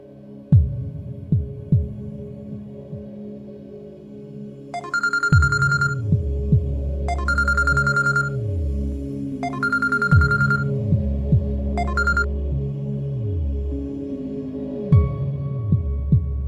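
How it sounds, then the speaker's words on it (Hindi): A phone rings in a repeated pattern of electronic tone bursts, four close-spaced rings over a low, throbbing musical underscore from a Pakistani TV drama. "शजी फोन उठाओ।"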